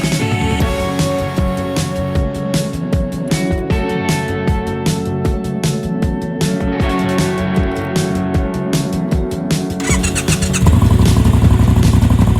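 A motorcycle engine is started close by: about ten seconds of rhythmic cranking pulses with a whining starter. The engine then catches and settles into a loud, steady idle.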